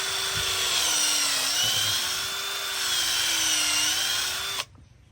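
A power drill whines steadily for several seconds while boring into a tree trunk, close and loud, its pitch wavering slightly as it bores, then cuts off abruptly.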